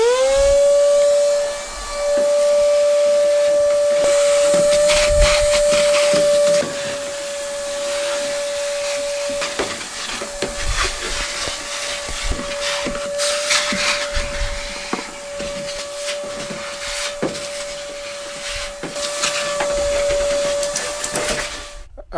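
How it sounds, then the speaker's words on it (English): Vacuum cleaner running inside the crew cab of a Prospector truck, a steady close whine that dips and shifts as the nozzle moves, with knocks and scraping against the interior. "let's clean, kind of vacuum and wipe everything down"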